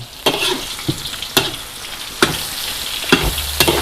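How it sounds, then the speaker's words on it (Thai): Crushed unpeeled garlic and pork cracklings fry in a wok over low heat, a steady crackling sizzle punctuated by regular sharp scrapes of a spatula stirring, up close and fairly loud. "เจียวจนกว่ากระเทียมจะเหลืองกรอบ"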